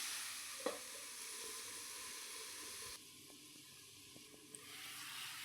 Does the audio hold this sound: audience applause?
no